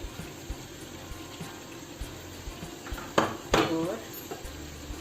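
A chicken curry with green beans, potatoes, dried fenugreek, garam masala and green chillies sizzles gently in a pan, with a spoon stirring and scraping in a couple of louder clattering strokes midway.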